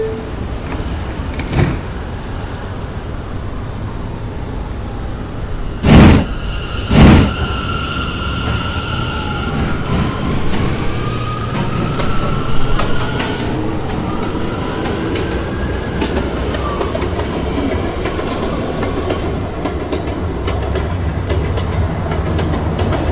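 An R179 M subway train runs on the Myrtle Avenue line toward Marcy Avenue, a loud, steady rumble of wheels and motors with rising whine tones, a few sharp thumps and rail clicks.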